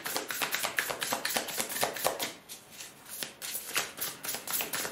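Tarot cards being shuffled and drawn by hand: a close series of quick riffling taps and flicks, with a brief quieter pause midway before the rapid card sounds resume.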